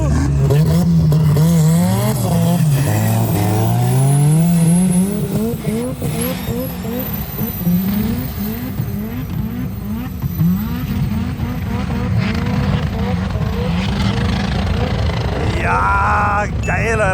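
Skoda Fabia and VW Golf drag racing up a ski slope at a high-power racing event, engines screaming through rising gear shifts with loud, continuous revving and tire noise, while spectators talk over the roar.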